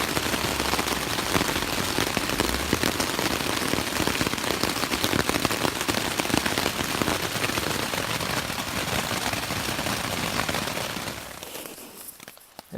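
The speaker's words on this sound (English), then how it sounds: "I started hearing raindrops dropping down" Steady, dense patter of rain falling on a tent, loud and close, a continuous hiss of drops drumming on fabric that fades out toward the end, with no talking.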